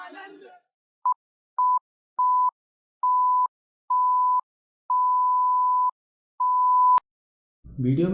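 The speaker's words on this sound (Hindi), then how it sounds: "वीडियो में जितनी भी जगह बीप था वहाँ कुछ ऐसा नहीं था कि मैं सुनाना नहीं चाहता था, बल्कि वहाँ पे सीधे गाली दी हुई थी" A run of censor bleeps of the kind used to cover swearing in a profane Holi song: eight steady, loud tones, short ones at first, then a long one and a final one, all between silence with brief talk at the start and end.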